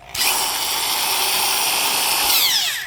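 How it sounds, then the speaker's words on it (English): Skil semi-professional half-inch corded drill running, a steady high-pitched motor whine that starts abruptly and holds loud and close, with a slight pitch shift near the end. "this is more like an overblown consumer grade drill"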